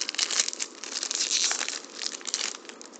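Crinkly plastic wrapper of a trading card booster pack being torn open and handled, loud continuous crackling and crumpling close up, with no voices.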